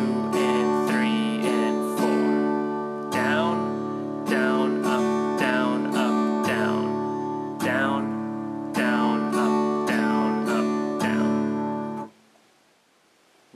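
An acoustic guitar strums chords in a steady eighth-note pattern, with even down and up strokes and a few chord changes, for about twelve seconds before cutting off into near silence.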